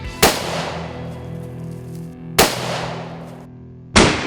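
Three sharp rifle shots fired at wild boar during a forest hunt in Hungary, each a loud, close crack followed by a long rolling echo through the trees, spaced a second or more apart.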